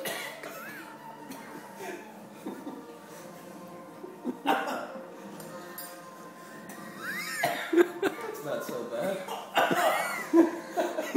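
Harsh, repeated coughing fits after swallowing a teaspoon of cinnamon, growing louder and more frantic toward the end, with gasping breaths and a few voices reacting around them.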